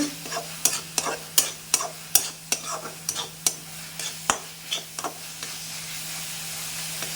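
A spoon scrapes rhythmically against a pan about twice a second over a steady soft sizzle of something frying, close up.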